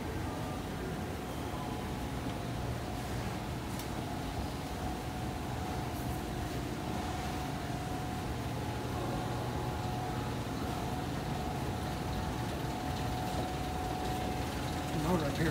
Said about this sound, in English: The motor appears pretty loud.